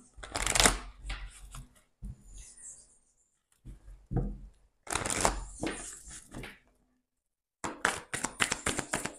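Tarot cards are shuffled and drawn by hand during a reading. Close, rapid riffling bursts come in several separate runs, broken by short quiet gaps and soft taps of cards being laid down.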